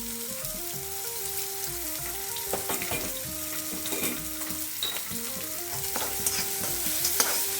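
Onions with turmeric powder being stirred in a pan, with a steady sizzle and repeated spatula scrapes and taps. A melodic background tone runs underneath, and there is no talk.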